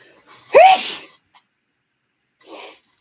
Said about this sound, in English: I have a very loud sneeze and it always comes out of nowhere.